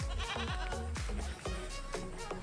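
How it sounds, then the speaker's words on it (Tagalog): A goat bleats several times in quick succession, close and loud, with a wavering nasal cry in a rural outdoor setting near a river. "Yung kambing."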